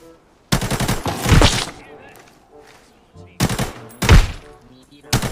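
Automatic gunfire in the shooter video game Arena Breakout, two loud, rapid bursts of close shots separated by a quieter gap, with the second burst ending abruptly.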